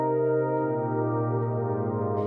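A synth pad from the Flex plugin in FL Studio holds a smooth, steady chord alone, without arpeggiation, sustaining evenly for a couple of seconds.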